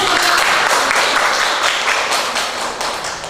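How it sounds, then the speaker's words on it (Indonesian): A classroom of students claps their hands together in a dense, loud burst of applause that keeps up steadily for about three seconds and tapers slightly at the end. "Tepuk tangan dulu."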